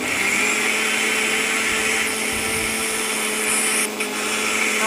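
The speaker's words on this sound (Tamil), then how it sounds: "அதை மிக்சியில் போட்டு நல்லா அரைச்சிருக்கேன்." An electric kitchen mixer grinder blending onion, a loud steady whining motor hum running throughout with a brief dip in pitch near the end.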